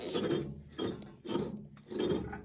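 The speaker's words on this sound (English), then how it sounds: "So hear how it's just hitting the bed plate" Rhythmic rasping scrapes repeat about four times in a steady cycle as a papermaking beater roll hits its bed plate, close and moderately loud.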